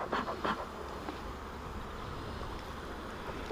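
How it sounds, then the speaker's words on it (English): Honeybees droning steadily around a mating nuc hive, a continuous close buzz that holds at an even level, with a couple of brief knocks or thuds near the start. "I need to get those bees out of there."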